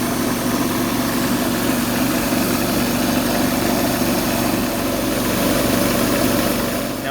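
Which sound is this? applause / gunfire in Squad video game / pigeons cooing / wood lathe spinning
wood lathe spinning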